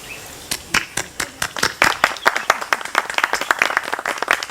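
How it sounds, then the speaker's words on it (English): An audience claps at a presidential Order of Merit award ceremony honouring artist Mindy Weisel, with a steady run of close, sharp handclaps from a modest crowd that thickens and grows louder toward the end. "I can applaud you"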